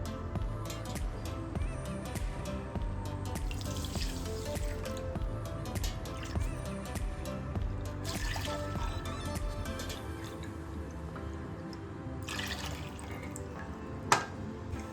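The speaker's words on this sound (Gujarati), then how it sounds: "તો આનું આપણે ત્રણ ઘણું પાણી એડ કરશું" Water trickles and drips into a pan of sugar for syrup in a steady, quiet pour, with a single sharp knock near the end.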